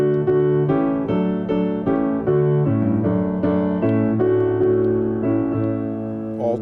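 Piano playing slow, full block chords that move together with the melody, stately and hymn-like, each chord sounding clearly on its own.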